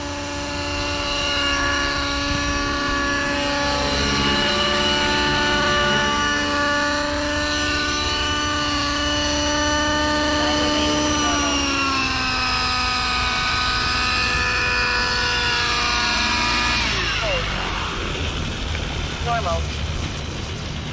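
An Align Trex 600 nitro RC helicopter engine buzzes loud and close, its pitch climbing and wavering as it spools up, then fluttering briefly near the end, with a person talking over the engine noise.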